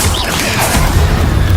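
A Confringo spell blast in Hogwarts Legacy gameplay erupts as a loud, dense fiery explosion with rumbling low booms that fill the short moment.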